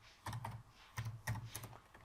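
Keys clatter on a computer keyboard as a message is typed, coming in short, uneven bursts of clicks and taps with brief pauses between them, quiet and close.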